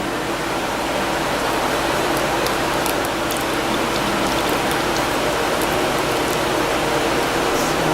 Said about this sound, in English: So I'm going to start to strain some of the curds